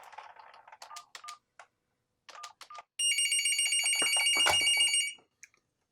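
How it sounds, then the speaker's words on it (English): Touch-tone telephone dialing through a Cisco FXS port: several short DTMF beeps in two quick groups, then a steady, loud multi-tone signal lasting about two seconds before a brief final blip, all without talk. "if I dial 4 ones on this one"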